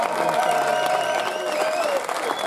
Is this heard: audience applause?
yes